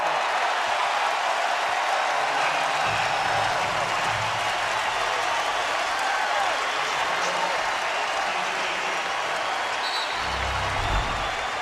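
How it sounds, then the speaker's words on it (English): A packed basketball arena crowd cheers and applauds at the 2008 NCAA East Regional Final, North Carolina against Louisville, a dense, loud, continuous roar that holds steady throughout. "Listen to this crowd."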